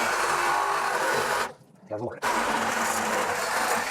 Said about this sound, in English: I'm about due for a new Sawzall blade, it appears, too.